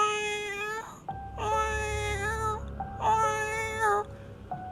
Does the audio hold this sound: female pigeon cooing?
no